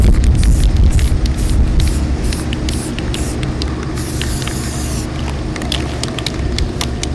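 A spray paint can coats a craft hoop with a steady, close, loud hiss that runs almost unbroken, with brief sputters and one harsher burst midway.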